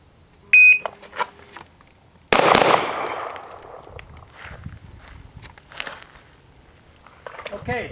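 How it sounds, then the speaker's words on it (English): A shooting drill at 20 feet aimed at a 3x5 target: a shot timer beeps, then after a pause a sharp, loud gunshot cracks with a quick decay, followed by quieter shuffling. "We're going to be shooting at that right side 3x5 rectangle."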